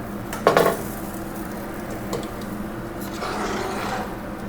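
Boiled milk poured into a roux in a pan, a brief loud splash and sizzle followed by soft stirring and scraping of a utensil against the pan, close by.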